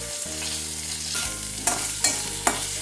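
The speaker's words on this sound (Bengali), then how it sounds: "এবার ওই তেলেই বেগুনগুলো একটু ভেজে নিচ্ছি বেগুনের টুকরো" Eggplant pieces fry in hot oil with a steady sizzle, while a utensil stirs and scrapes the pan and knocks against it three times toward the end. There is no talking.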